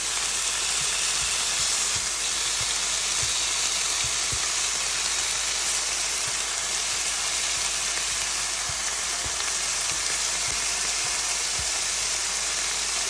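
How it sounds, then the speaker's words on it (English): A quesadilla sizzles in a pan with a constant close hiss of frying. Faint irregular pops and taps come through underneath, and no one speaks. "you can hear the sizzling."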